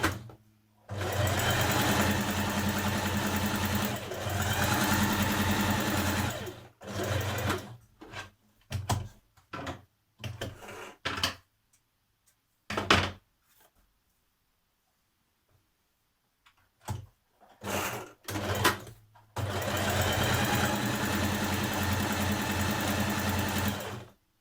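Sewing machine stitching dress fabric for a bodice front piece, running in steady whirring bursts of several seconds, broken by short stops and starts, close and clear with no talking.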